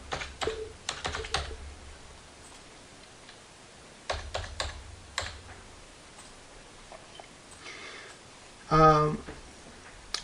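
Clicky computer keyboard keys are typed in short bursts while entering a username and password, with gaps between clusters and a louder quick run near the end, heard close and alone.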